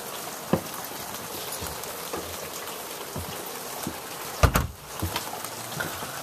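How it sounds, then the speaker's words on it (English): Steady patter of rain falling outdoors, with a few louder drips and a brief rustling bump partway through. "Look at that. It's raining."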